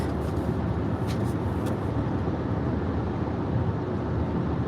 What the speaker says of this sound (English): I'm driving Dad's Journey still.